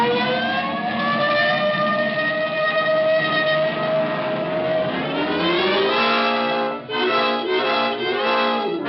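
Police car siren in an old radio detective drama, a loud wailing tone that sweeps up and down and then breaks into rapid rising and falling yelps, heard alone without talk.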